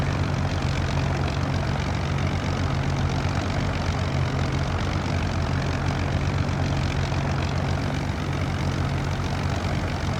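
Hawker Hurricane propeller fighter in the P3D flight simulator, a steady, loud piston engine drone with a low throbbing hum that holds constant throughout, no voices.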